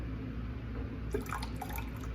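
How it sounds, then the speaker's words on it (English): Distilled white vinegar is poured into a bowl while making orange chicken, a brief, close liquid splash and trickle that starts about halfway through, over a low kitchen hum. "we're gonna add in a 1/2 cup of distilled white vinegar"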